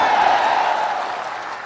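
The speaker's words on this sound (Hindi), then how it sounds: "अब बजाइए ताली" A youth rally crowd at Bapu Sabhagar auditorium in Patna claps, a loud, dense burst of applause that slowly eases over under two seconds.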